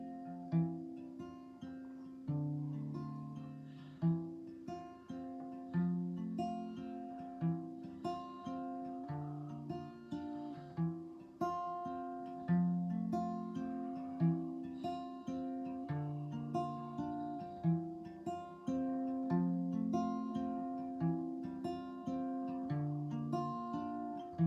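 An acoustic guitar plays a repeating fingerpicked arpeggio, notes plucked one at a time in a steady rolling pattern with occasional quick hammered or pulled notes.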